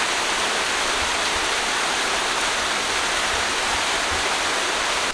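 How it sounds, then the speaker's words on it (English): Cooper Canyon Falls in the Angeles National Forest pours in a steady, close, full roar of falling water, unbroken for the whole stretch, with no voices over it. "we made it to Cooper Canyon Falls in the Angeles National Forest"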